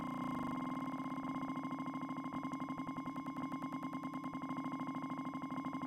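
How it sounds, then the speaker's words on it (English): A Korg Volca Sample loops a very short sample for granular synthesis, producing a quiet, steady buzzing tone with rapid, evenly repeating pulses, alone with no talk. "adjust the endpoint to give the sample a very short loop, but not so short that it becomes a single cycle waveform"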